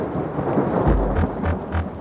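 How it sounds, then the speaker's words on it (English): Heavy rain pours down during an outdoor wedding storm, a broad steady hiss with low rumbling thunder swelling beneath it, close and continuous. "the skies just opened and it started raining"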